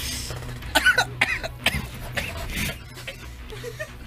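Several harsh coughs and throat-clearing bursts, close and fairly loud, with gasping breaths between them over a low background hum.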